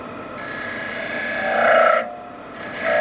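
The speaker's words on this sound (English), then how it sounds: "Next thing is to cut a channel for the tenon that I will make on the pewter." A parting tool cuts a channel into pewter on a lathe, giving a steady high-pitched metallic scraping hiss that swells to its loudest near the middle, breaks off briefly, then resumes. Close and alone.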